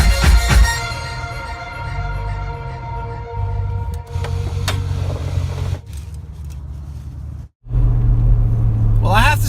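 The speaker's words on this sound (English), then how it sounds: "It continues to do this idling, die out thing in the cold weather" A Chevrolet Tahoe engine idles roughly in cold winter weather, its steady rumble cutting out briefly and stalling before catching again, loud and close throughout.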